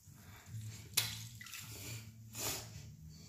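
Water wrung from a wet cloth during a morning face-washing routine: soft close squishing and trickling, with a sharp splash about a second in and a second dripping burst near the end, no voices.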